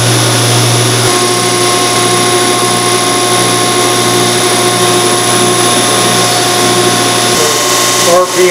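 A diesel fuel system test bench in a remanufacturing shop runs its automated test steps with a loud, steady mechanical whine and hum, shifting in pitch briefly early on and again near the end.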